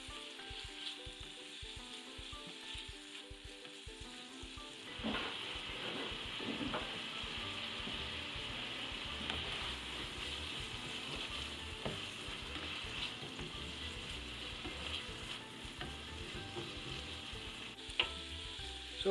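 Bacon pieces for kale frying in a frying pan, a steady close hiss and crackle that swells as the food hits the hot fat and then holds, with occasional pops and no talking.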